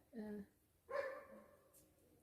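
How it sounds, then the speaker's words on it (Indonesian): A neighbor's dog barks a couple of times at a distance, faint and muffled, with a pause between the short bursts. "ada yang berisik nih, ada guguk tetangga"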